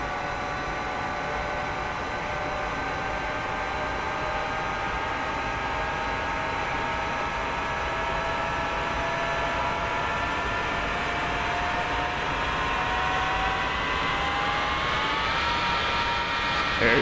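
F-4E Phantom II jet engine in DCS World spins up toward idle, with a steady loud roar and a rising whine that climbs slowly and evenly over the full stretch.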